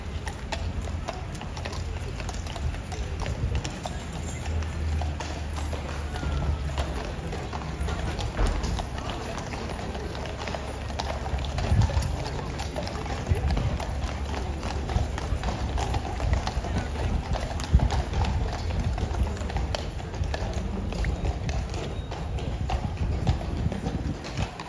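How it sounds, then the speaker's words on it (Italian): Horse hooves clip-clop at Horse Guards, a steady run of close hoof strikes with some mechanical clanking, while people chat nearby throughout. "È bello il cavallo nero, quello lì nero, è bellissimo."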